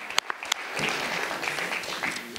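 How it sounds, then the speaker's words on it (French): An audience at a dairy farmers' general assembly applauds a cattle breeder coming on stage, a few sharp early claps swelling into steady dense clapping for about two seconds. "vous pouvez applaudir l'éleveur qui vient de monter sur scène"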